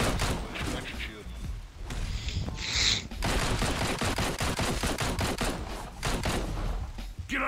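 Bursts of rapid gunfire and thuds fill a chaotic battle in the Xbox One game Marvel Heroes Omega, with dense overlapping shots and effects throughout.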